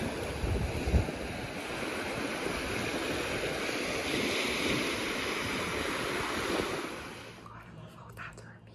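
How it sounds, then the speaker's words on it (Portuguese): Sea waves wash onto a shell-strewn beach at Maragogi in Brazil, a continuous broad hiss of surf with wind buffeting the microphone, fading out toward the end. "E o barulho do mar."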